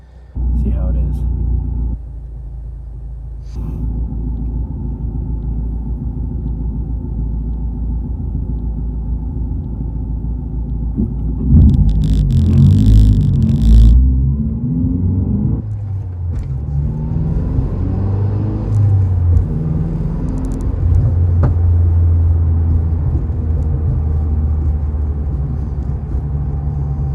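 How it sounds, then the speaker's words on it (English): A Mazdaspeed3 hatchback with a newly installed rear motor mount rumbles along on a test drive, with a steady engine drone, a few rises and shifts, and road noise filling the cabin. "So we're just gonna go on a short test drive right now."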